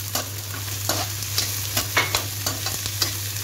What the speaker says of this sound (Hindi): ये मैंने एक मुट्ठी कच्ची मूंगफली लिया प्याज के साथ ही भून लो इसको भी